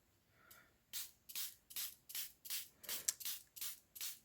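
Nine short bursts of water spray from a pump bottle onto inked book pages, evenly spaced and close by, with a fainter hiss just before them.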